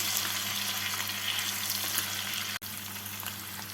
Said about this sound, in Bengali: মধু আর লেবুর রস দিয়ে মাংসটাকে নাড়াচাড়া করে নিচ্ছি